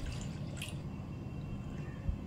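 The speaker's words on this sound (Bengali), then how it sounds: "আরও 1 বাটি জল দিলাম, মানে টোটাল 2 বাটি জল দিলাম" Water pours into lentils in a cooking pot with a continuous close splashing and trickling, steady throughout at moderate loudness, with no voices.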